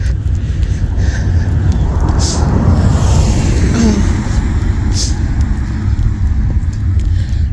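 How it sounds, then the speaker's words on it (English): A car passing by on the road, a loud, steady rush of engine and tire noise that swells and fades over several seconds in a close outdoor setting. "Another car."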